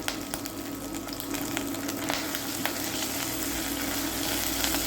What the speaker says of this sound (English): I'm just going to give this spice mix a quick stir.